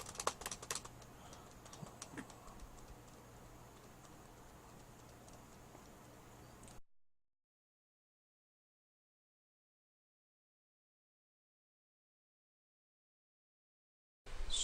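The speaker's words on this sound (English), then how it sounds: "Just doing this so I can spam spacebar a little bit faster." Computer keyboard keys tapped in quick repeated presses during a B/R Midrange vs Combo mill card game match, a steady run of light clicks for about seven seconds before silence.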